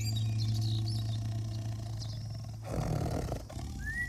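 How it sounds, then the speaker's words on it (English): Lions roar as they descend on hyenas and vultures at a kill in the wild, a deep, sustained rumbling roar up close, swelling into a louder burst near the end with faint bird-like cries above. "The lions descend upon the scene, their roars drowning out the cries of the startled scavengers."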